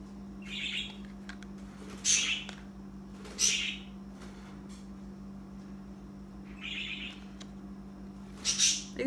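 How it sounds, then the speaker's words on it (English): Birds call outdoors in a few separate bursts of chirps and squawks, moderately near, over a steady low electrical hum with no talking. "These birds are all worked up today."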